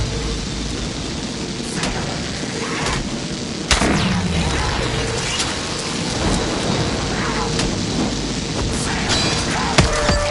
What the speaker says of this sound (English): Electrical storm coming through!